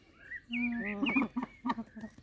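A few honking, nasal Hawaiian goose (nene) calls close by, a short series of rising and falling notes followed by quieter clucking honks.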